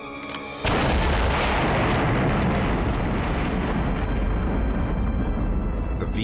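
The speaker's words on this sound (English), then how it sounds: "In a final bid for victory, Hitler orders the launch of a new secret weapon." A V2 rocket launch roars to life with a sudden loud blast, then a sustained, dense rumbling roar fills the rest of the clip.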